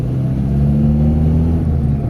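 A Mazda 323 engine, freshly tuned at the carburetor and distributor, runs close by with a loud, steady low rumble and a smooth, even drone. No one speaks.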